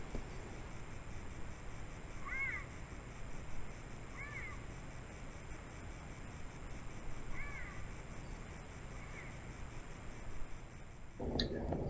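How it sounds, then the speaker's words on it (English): A thin, high-pitched, bird-like chirping call from a cougar repeats four times at spaced intervals, faint against a steady background hiss, ending with a brief knock. "that high-pitched bird-like sound is this cougar calling."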